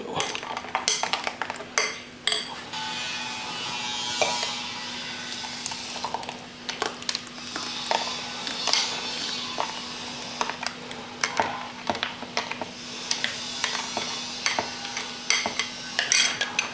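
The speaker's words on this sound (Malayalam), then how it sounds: "അത് നല്ലപോലെ ഇളക്കി നമ്മുടെ പഞ്ചസാരയും തേങ്ങയും എല്ലാം നല്ലപോലെ മിക്സ് ആയി" Sugar, grated coconut and peanuts are stirred into snap melon juice, a spoon clinking and scraping against the container in quick irregular taps and swishes, close and steady throughout with no speech.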